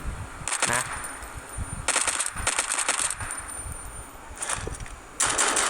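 An MP5 submachine gun fires in a SWAT video game, in several rapid automatic bursts with brief pauses between them, crisp and loud over steady game background noise.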